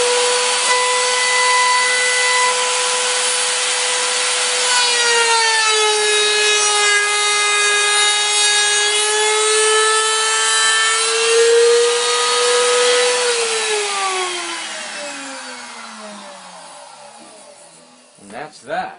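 A router cuts the binding ledge into a guitar body's wood, a loud steady whine with a pitch that dips as the cut starts and rises again, then spins down to silence near the end.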